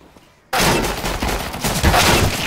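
Gunfire in the video game CS:GO, a sudden dense burst of rapid shots that starts after a quiet half-second and keeps going loud and sustained to the end, with no voices.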